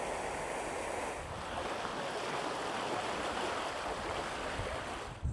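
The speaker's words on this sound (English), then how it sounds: "The water level is dropping in the lock." Water draining out of a lock on the Chesterfield Canal, a continuous rushing, churning wash with some wind noise, steady and fairly close for the whole stretch with no voices.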